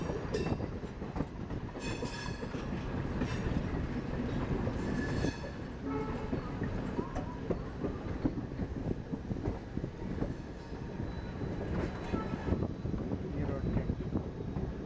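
An electric multiple unit train rolls past near Erode Junction with a continuous loud rumble, rhythmic wheel clatter and occasional brief squeals, heard up close throughout.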